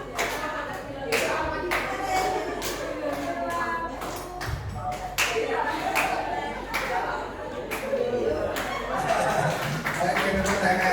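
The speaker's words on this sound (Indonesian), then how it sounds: "Oke, tepuk tangan." Scattered clapping from a small group at a casual gathering, steady across the clip with bursts of taps, chuckles and voices mixed in, fairly close.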